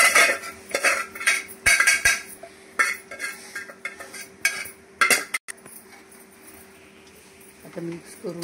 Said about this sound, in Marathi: आता मिक्स करून घेऊया आपण।